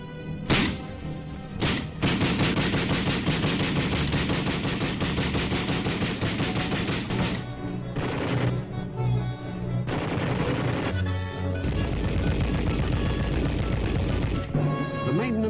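Rapid bursts of gunfire from US Army tests of standard and experimental weapons in Arctic and subarctic Alaska, dense and sustained at close range with brief pauses between volleys, no speech.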